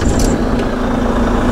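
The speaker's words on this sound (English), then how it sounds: "Then you're going to crank the truck." A truck engine turning over on a cold start during a CDL pre-trip inspection, a steady loud droning crank with a sustained low hum running through the whole short stretch.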